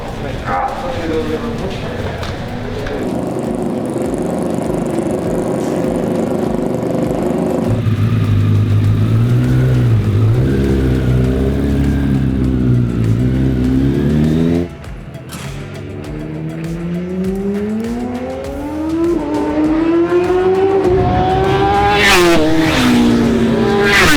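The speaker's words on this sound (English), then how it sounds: "the sound of these marvelous motorbikes when they're on track" Racing motorbikes on a track roar past with rising and falling engine pitch, shifting gears and revving hard, loud and close across the whole stretch.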